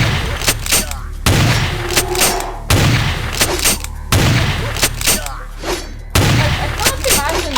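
Shotgun blasts in Vampire: The Masquerade – Bloodlines, five loud booming shots spaced about a second and a half apart, each with a rumbling tail, while someone talks over them.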